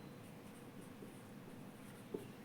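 Soft pen or chalk strokes as an example sentence is written, a quiet, continuous scratching with a small tap near the end, heard alone without speech.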